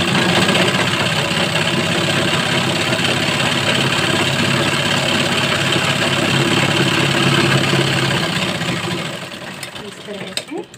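A sewing machine runs continuously while stitching the bottom corner of a salwar, a steady loud mechanical whir that slows and fades near the end.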